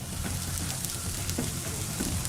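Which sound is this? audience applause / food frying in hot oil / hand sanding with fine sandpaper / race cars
food frying in hot oil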